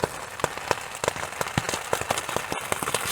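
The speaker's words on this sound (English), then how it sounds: "Pretty fucking decent rain," Rain patters on a camping tarp, with heavy drops striking in irregular, sharp taps over a steady wet hiss, close and fairly quiet throughout.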